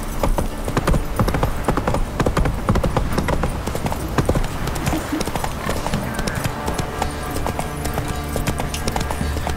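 Rapid clip-clop of horse hooves trotting in the video game The Witcher 3, over a dense background of game sound effects and music, with an occasional whinny.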